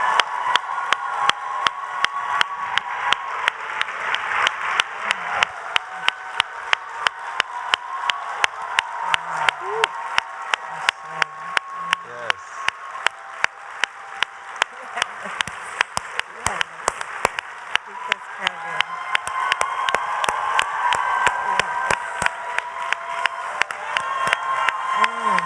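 Sustained audience applause and cheering at a Rainbow Push keynote welcoming a speaker, a steady wash of clapping with voices speaking over it throughout.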